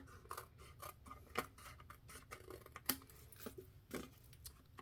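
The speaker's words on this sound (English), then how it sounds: "now I'm just going to go on the back side and trim off with my snips that extra paper" Paper snips trimming excess paper from the back of a handmade stamped card, a quick series of close, crisp cuts with light rustling, quiet and alone.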